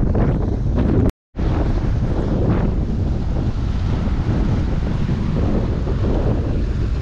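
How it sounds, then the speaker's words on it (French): Very strong wind roaring across the microphone on the coast at Tarifa, loud broadband buffeting that is nearly continuous, with one brief dropout, and no speech. "il y a trop de vent,"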